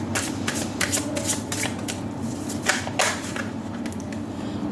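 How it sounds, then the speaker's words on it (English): Tarot cards being shuffled by hand, a little unevenly with stick-on nails, giving repeated riffling bursts in a steady rhythm, close and clear with no talking. "shuffling is going to be a little sloppy"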